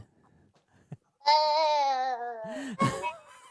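A person imitates a baby goat's bleat during a Passover Seder song, one long quavering vocal bleat held for about a second and a half, close and loud, followed by a short breathy sound.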